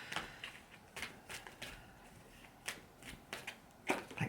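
A deck of oracle cards shuffled by hand, soft repeated riffling bursts at an uneven rhythm, quiet and close with no talking.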